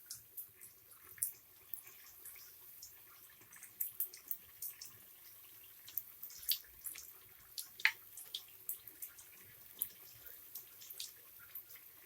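Potato bajji, with the skin left on, fry in hot oil, giving a faint, steady sizzle scattered with small crackles and pops, with no talking.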